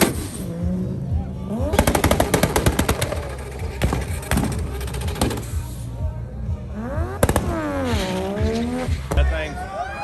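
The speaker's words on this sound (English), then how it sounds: "That thing sounds like an AK-47 on the two-step, or the limiter." A tuned car on a two-step launch limiter bangs out rapid machine-gun-like pops in loud bursts between engine revs, with crowd noise and talk around it.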